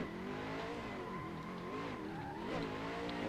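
A drift car flicks round a long sweeping track corner, engine droning with shifting pitch under a continuous tire squeal, heard close and loud from onboard.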